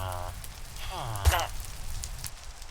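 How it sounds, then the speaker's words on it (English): Rain falling in Minecraft, a steady broadband hiss throughout, with brief harmonic voice-like sounds over it. "I think the rain is actually keeping them safe"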